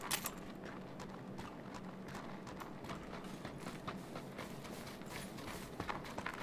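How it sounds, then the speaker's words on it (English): Footsteps in the Rainbow Six Siege video game, a dense run of quick soft impacts repeating steadily throughout at moderate loudness, with no talk over them. "they can definitely hear our footsteps"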